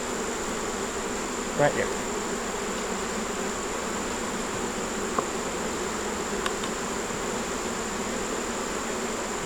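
Honey bees buzzing around a backyard hive as the beekeeper tends it, a steady, continuous hum throughout with a few faint knocks, and a person briefly speaking close by.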